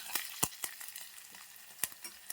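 Curry leaves crackle in hot tempering oil for a green-leaf and broad bean fry, giving quiet, scattered sharp pops and spits over a low sizzle, close by and with no speech.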